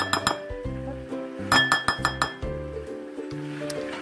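A spoon scooping butter into a glass bowl, giving a run of bright clinks and taps, a few at the start, then a quick cluster of sharper knocks, then scattered lighter ones, close and clear with no talk.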